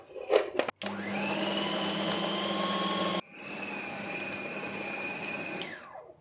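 An electric grinder whirs loudly and steadily for several seconds as it grinds a kebab mixture of spices, chopped green chilies and egg, pauses briefly, then runs again before winding down.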